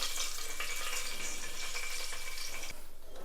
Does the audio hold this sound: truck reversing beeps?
no